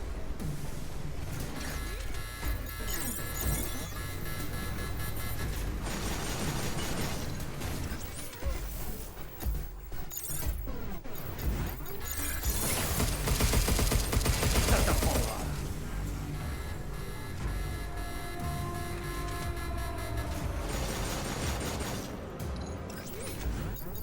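Gunfire and crashing impacts from the sci-fi video game Pragmata, a dense continuous barrage of shots, smashes and mechanical clatter under layered game effects and music, loud throughout.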